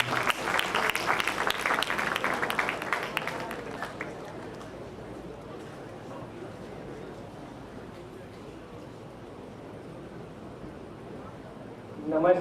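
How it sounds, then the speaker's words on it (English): Audience applause at a welcome and thanksgiving ceremony, loud and dense for about four seconds, then thinning into a murmuring room ambience, with a sharp burst near the end. "Can we have a huge round of applause for them?"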